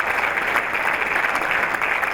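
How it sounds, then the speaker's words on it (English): A Newcastle United legends evening audience gives a steady, dense round of applause, loud and continuous throughout with no voices standing out. "a round of applause for that."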